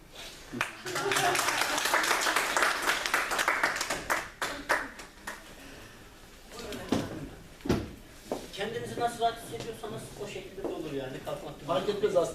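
An audience at a university meeting in Turkey gives a burst of applause, brisk clapping for several seconds that fades, then talking resumes with scattered knocks and rustles.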